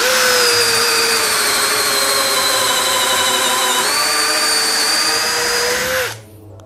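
A Power Action BID20 cordless hammer drill runs in drilling mode at speed one with a wood bit, giving a loud, steady motor whine that holds for about six seconds, then winds down and stops.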